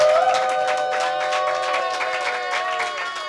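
A church congregation at a Sunday worship service applauds and cheers in a steady, even roar, while a sustained voice calls out over the crowd noise.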